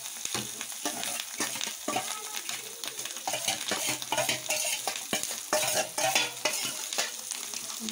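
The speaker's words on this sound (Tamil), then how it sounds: "முட்டை நம்ம சேர்த்துட்டால் நல்லா பொறிச்சு எடுக்கணும்." Fish roe sizzles and fries in a pan while a spoon or spatula stirs and scrapes it, with steady crackling and frequent clinking strokes against the metal, close and continuous with no talking.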